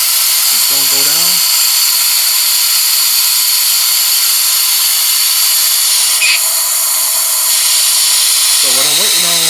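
A compressed-air vacuum tool pulls a vacuum on the cooling system of a 1978 Chevy Malibu Classic, producing a loud, steady high-pitched hiss throughout, with brief bursts of a voice at the start and end.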